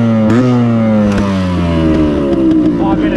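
A four-stroke ag bike engine revs up and then drops slowly to a lower pitch, loud and close, with its harmonic drone running throughout and a few clicks and clatters over it.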